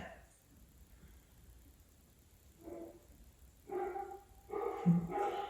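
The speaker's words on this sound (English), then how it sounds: "Yes, those are my dogs barking." Dogs bark in the background during an indoor yoga class, a few short faint barks growing louder toward the end, with quiet room tone before.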